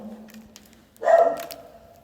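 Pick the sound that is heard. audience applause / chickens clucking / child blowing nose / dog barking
dog barking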